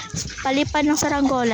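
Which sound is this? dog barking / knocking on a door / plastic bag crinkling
dog barking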